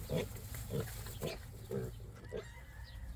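A piglet on a family farm squeals repeatedly, about five short, sharp cries at roughly half-second intervals, close by and fairly faint over a low background hum.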